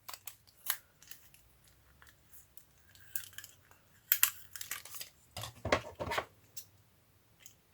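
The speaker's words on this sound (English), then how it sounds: "And now I'm just going to cut off the top strip that is ugly." Scissors snipping through a strip of paper and tape on an envelope folio craft, a series of sharp irregular cuts and crinkles, close and fairly quiet with no talking.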